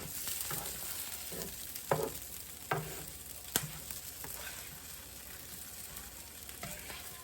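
Food sizzles on a hot griddle with a low, steady hiss, punctuated by a few sharp spatula scrapes and taps, close and fairly quiet.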